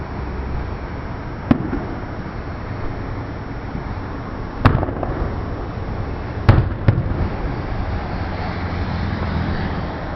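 Fourth of July fireworks pop and bang at a distance, several sharp isolated cracks spaced over a constant background hiss and low rumble of the night outdoors.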